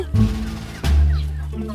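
Chickens cluck loudly and close by as they are fed, two short bursts of clucking a moment apart, with a voice faintly in the background.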